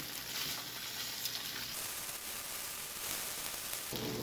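A soft, continuous sizzle of tofu frying in a pan, a steady crackling hiss with no talking.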